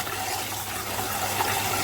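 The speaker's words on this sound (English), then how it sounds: "I'm going to wash the rice now at the sink before blendering it" Tap water gushes steadily into a kitchen sink as rice is rinsed by hand, a close, continuous rushing splash with no talking.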